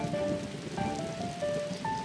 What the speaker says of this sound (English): The rains are coming down